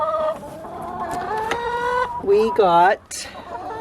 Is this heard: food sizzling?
no